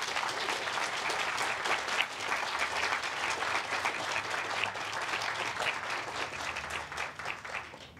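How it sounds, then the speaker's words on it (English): Sustained applause from an audience at a groundbreaking ceremony for an agricultural sciences building, steady and dense for the whole stretch and fading slightly at the end, with no talk over it. "Let's give everyone a round of applause."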